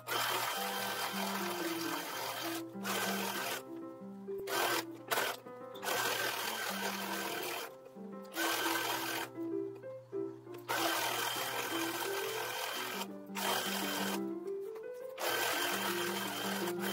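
A sewing machine runs in steady bursts of rapid stitching with short pauses between seams, machine-sewing 1910s-1920s style infant bibs; the whirring is close and fairly loud, with no talk.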